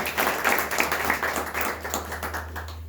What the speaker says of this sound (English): Let's clap it up for Emmanuel on the left.